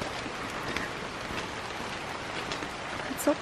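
Steady rain falls through a green Kauai jungle on a hiking trail, a dense even patter close around with no break, ending in a brief sharp knock.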